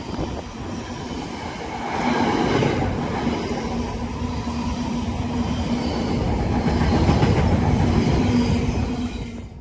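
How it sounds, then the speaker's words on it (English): An Avanti West Coast Pendolino running from London Euston to Liverpool Lime Street passes through Acton Bridge station, a loud, close rolling rush of wheels and carriages that builds and holds steady, with faint rail squeal. "about to pass through is going to be another Avanti West Coast Pendolino running from London Euston to Liverpool Line Street"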